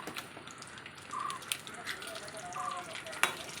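Dried red chillies hit hot oil already holding mustard seeds, garlic and green chillies for an ivy gourd (kovakka) pickle, giving a steady close sizzle with occasional sharp clinks from stirring.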